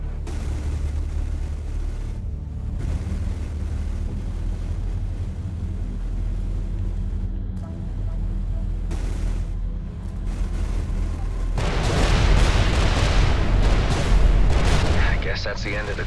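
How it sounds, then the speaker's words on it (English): Onboard explosives detonating on a freighter in the space game Everspace 2, a steady heavy rumble that swells into a louder, harsher blast near the end. "Please attain some distance while I detonate the onboard explosives."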